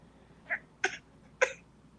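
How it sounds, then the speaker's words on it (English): Three short, quiet coughs or throat clears close by, spaced apart in an otherwise quiet room. "And you had to cough right after I said that."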